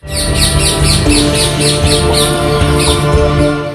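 Many small birds chirp and tweet continuously, close and loud, with rapid repeated high calls overlapping into a dense chorus.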